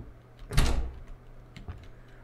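A locked door rattles in the horror game Suite 776, one heavy thudding shake near the start followed by a fainter knock, close and fairly loud over quiet ambience.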